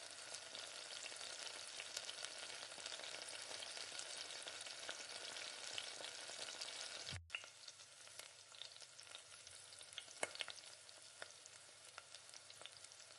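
Chopped onions sautéing in oil in a pan for chilli chicken, a quiet continuous hiss with occasional stirring scrapes, one brief dropout midway.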